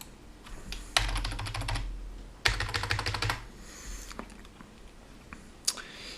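Typing on a computer keyboard in two quick bursts of rapid, close clicking, each about a second long, with a few scattered single key taps between them and a low hum in the background.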